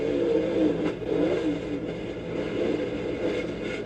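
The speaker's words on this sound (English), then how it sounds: "their strategy has been rev the engine up, we're going to push you, and then try to slam it into gear" NASCAR race car engine at Kansas revving steadily while the driver fights clutch and gearbox trouble, a sustained mid-pitched roar with slight surges, heard alone at fairly close range.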